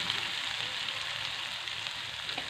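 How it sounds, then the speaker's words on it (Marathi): Ginger and garlic fry in hot oil for a spicy bitter gourd dish, giving a close, steady sizzle that crackles evenly throughout with no talking. "आणि आता आलं आणि लसूण आपण त्याच्यामध्ये पण घातलोत, पण आता हे तेलामध्ये फ्राय झालं की छान लागते।"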